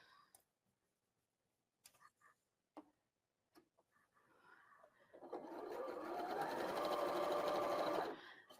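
A sewing machine fitted with a quarter-inch foot stitches for about three seconds, a loud, steady whirring hum that stops abruptly, after quiet clicks and handling sounds.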